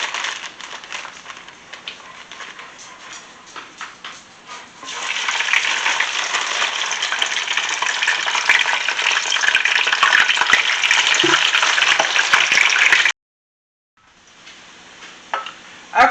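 Frozen tater tots frying in hot oil at home, a quieter sizzle that swells into a loud, steady crackling fry, then cuts out briefly before resuming at a lower level.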